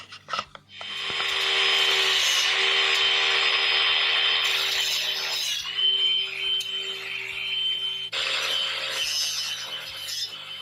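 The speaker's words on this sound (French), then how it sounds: "j'ai qu'une meuleuse, je sais pas si je vais réussir à passer pour aller faire sauter mes points sur ces supports là" An angle grinder cuts through weld tacks on hot rod shock absorber brackets, a loud, steady high whine that holds for several seconds, dips briefly, then surges again as the disc bites into the metal.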